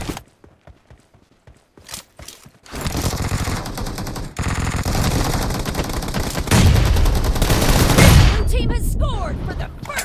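A video game team deathmatch plays through a HyperX Cloud III Wireless headset: sparse shots and footsteps, then loud, dense bursts of automatic gunfire rattling almost continuously.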